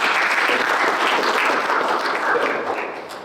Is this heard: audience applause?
yes